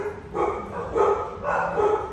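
Dogs bark in three or four close, moderately loud yelps and woofs in quick succession, heard alone without talk.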